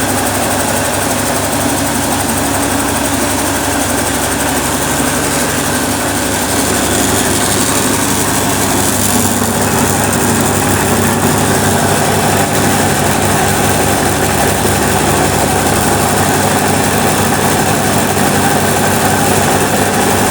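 A loud, steady 7.5 hp single-phase electric flour mill motor drones continuously with a constant mechanical hum and whine, no voices, running evenly throughout.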